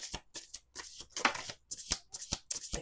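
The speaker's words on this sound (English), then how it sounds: "Let's do two more shuffles." A deck of oracle cards is shuffled by hand in several quick, crisp riffling bursts separated by short pauses, close and fairly quiet.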